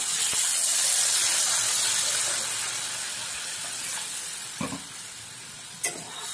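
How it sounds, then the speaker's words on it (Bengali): Water poured over fried spice paste for a mixed vegetable curry; a loud steaming hiss and sizzle that slowly fades, broken near the end by a couple of short clinks of a utensil against the pan. "এবার এর উপরে আমি দিয়ে দেব জল।"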